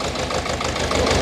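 A farm tractor's engine runs steadily while pulling an elevator potato digger through a field, a continuous close mid-to-low rumble with a slight knocking texture and no voices.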